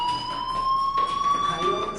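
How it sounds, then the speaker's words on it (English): A video game fire alarm rings with steady, sustained electronic tones and a slight rising pitch, loud and continuous for the full two seconds. "do you hear that fire alarm?"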